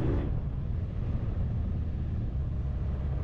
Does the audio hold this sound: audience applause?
no